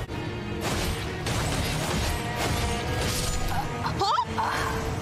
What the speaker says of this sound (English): what was throwing bombs at me just now?